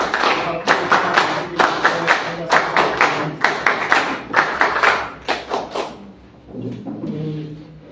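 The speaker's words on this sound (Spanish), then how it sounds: "Recibámoslas, por favor, con fuertes palmas" Audience applause welcoming a speaker at a social agenda and migration conference: bursts of hand clapping in a rhythmic pattern for about six seconds, fading out, followed by faint murmuring.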